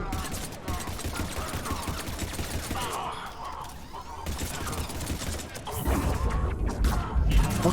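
Automated turrets in Mass Effect Legendary Edition fire continuous rattling volleys mixed with mechanical clanks, growing heavier and louder toward the end, with game voices mixed in.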